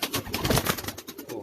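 Pigeons coo on a Karachi rooftop, a close, soft series of throaty burbling calls repeating quickly and running on without a break.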